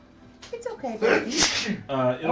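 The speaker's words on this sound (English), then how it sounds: "bless you" A single sneeze from someone in a room during a charity gaming stream, sharp and close, with people talking right before and after it.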